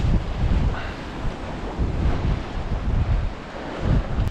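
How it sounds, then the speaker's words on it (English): Strong sea wind buffets the microphone on a cod lure-fishing outing, a loud continuous roar with gusting surges over the rumble of surf, no voices. "the wind's blowing from left to right or across us"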